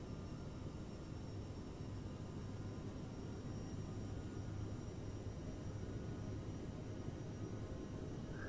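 An airliner's engines at maximum thrust during a takeoff roll in Microsoft Flight Simulator: a steady, loud, continuous roar with a low hum and no variation, with no talking.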